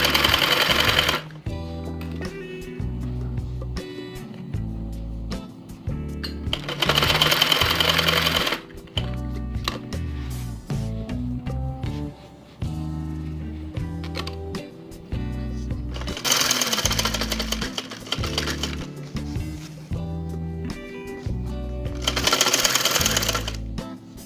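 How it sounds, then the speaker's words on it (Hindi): A sewing machine stitches a round neckline on an Indian garment, running in loud steady bursts of rapid stitching separated by short pauses, with faint handling between runs. "अब मैं सिलाई लगाती हूँ।"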